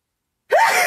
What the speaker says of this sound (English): Oh my God, I feel like I sneezed.